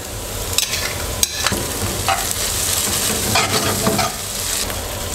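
Tomato and onion fry in hot oil in a pan, giving a steady loud sizzle throughout with a few sharp scraping clicks from stirring, and no talking.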